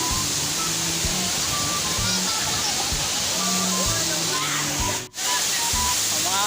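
Steady rushing river water fills the scene, with lively voices of people talking and splashing nearby throughout.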